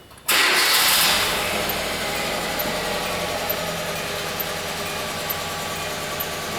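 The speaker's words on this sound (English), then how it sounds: "it definitely has a severe misfire, at least one cylinder" A Kia Rio with a manual transmission idles with a severe misfire on at least one cylinder, a steady rough engine drone heard close up and alone after a sudden start at the beginning.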